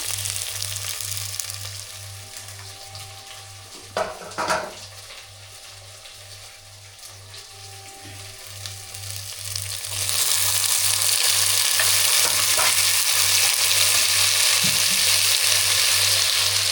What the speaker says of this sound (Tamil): தக்காளி கூடையே கொஞ்சம் உப்பும் சேர்த்துக்கலாம் எல்லாம் நல்லா வதங்கட்டும்